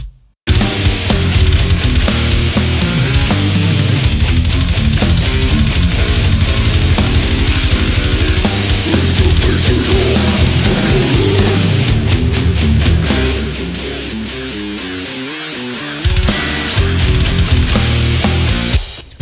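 An old school tech death metal riff on guitar, with a dense, loud full-band mix and cymbals cutting through. It plays steadily for nearly twenty seconds with a brief drop near the end and no talking.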